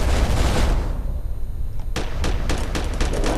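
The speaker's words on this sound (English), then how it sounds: "Fire some missiles!" Missile launches in the space combat game Starfarer: a dense, rumbling burst of fire, then a quieter pause, followed by a rapid series of sharp, loud blasts in quick succession.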